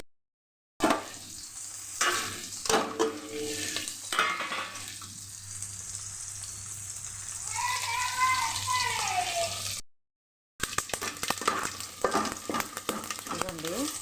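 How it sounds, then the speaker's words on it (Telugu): Tempering spices with fresh curry leaves and garlic sizzle and pop in hot oil in a pan, loud and close, with stirring and some running water. A short silent gap breaks the sound near the end. "ఇదిగోండి పోపు అయితే వేగిపోయింది కదా"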